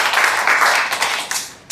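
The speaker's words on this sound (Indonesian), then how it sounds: "Beri tepuk tangan dulu." Brief audience applause at an academic lecture session, a short burst of crowd clapping that swells and quickly trails off, loud and close.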